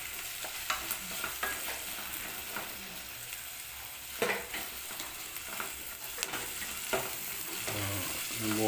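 Goat boti (tripe) sautés in a pan with a steady, fairly quiet sizzle, broken by occasional stirring clicks and scrapes up close.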